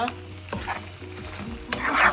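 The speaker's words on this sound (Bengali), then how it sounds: "এই ভাজা ভাজা করতে গেলে এই সমস্যা হয়, আমি জানি না কেন যেন তেলে ছিটা এসে পড়ে।" Beef tripe fries in hot oil in a pan with a busy sizzle, broken by sharp pops and splatters and a couple of stirring clatters at close range.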